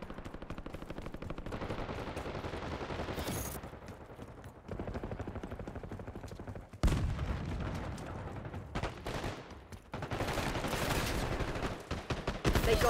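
Automatic gunfire rattles through a Call of Duty: Black Ops 6 match in repeated rapid bursts, some loud and close, broken by short gaps and heavier booming shots.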